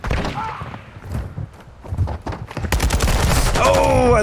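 Rapid bursts of gunfire from a free-for-all online shooter match, loud and close, with dense overlapping shots that build into sustained firing toward the end.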